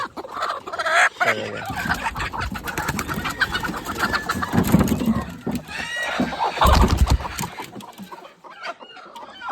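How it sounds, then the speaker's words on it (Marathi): A flock of native country chickens on a farm in Shahapur, many crowded in one coop, clucking and squawking together in a busy, continuous chorus, with a person talking over them. "ह्या सगळ्या कोंबड्या आहेत बघा एकाच डब्यामध्ये किती कोंबड्या"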